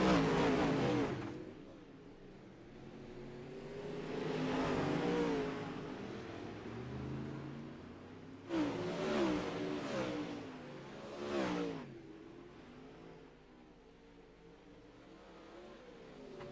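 Pro late dirt model race cars roar off at the start of a heat race: loud engine surges rise and fall in waves as the pack accelerates past, then fades into a steady, more distant drone.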